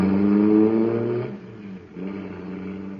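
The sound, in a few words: radio drama effect: supercharged cosmic surface car roaring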